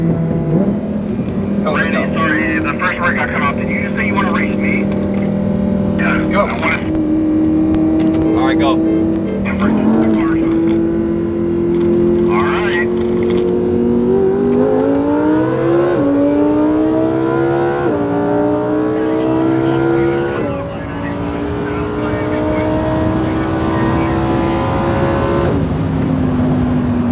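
A 2020 Lamborghini Huracan EVO V10 engine during racing, droning steadily and rising in pitch through gear changes, loud and continuous with voices talking over it.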